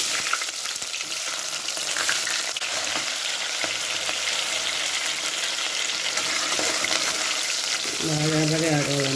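Onions and fennel seeds frying in oil inside a pressure cooker for a goat trotter stew, a steady broadband sizzle with occasional stirring scrapes, close and continuous, and a brief tonal sound near the end.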